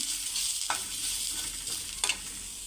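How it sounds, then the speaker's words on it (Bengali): Onion and garlic fry with black cumin in a pan, giving a continuous hiss of sizzling oil broken by two sharp scrapes of stirring. "এখন দেবো পেঁয়াজ আর রসুন। এটাকেও ভেজে নেব হালকা করে, বেশি ভাজবো না।"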